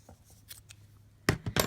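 Scissors snipping a yarn tail during loom knitting of a two-color brioche cowl; faint rustling, then two or three quick, close cuts at the end.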